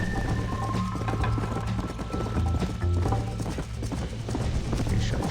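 Horse hooves clip-clop at a steady gallop in Red Dead Redemption on Nintendo Switch, a continuous rhythmic pounding with occasional whinnies over game music, loud and close throughout.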